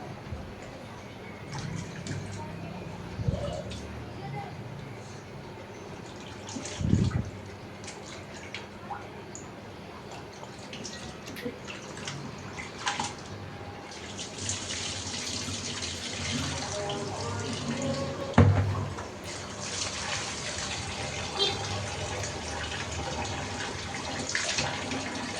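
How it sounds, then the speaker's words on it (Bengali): Raw meat for a biryani is rinsed under a running kitchen tap. Water flows and splashes steadily for about twenty-five seconds, with occasional louder bumps and sloshes as the pieces are handled. "আর মাংসগুলো এখন ধুয়ে নিব"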